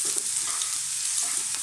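Fresh ginger sizzling in hot sunflower oil for a beef and bean stir fry, a steady close crackle and hiss with no talk.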